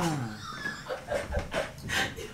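A dog sniffs and pants close by in quick, breathy bursts, with faint whimpering tones, over a soft, steady background hiss.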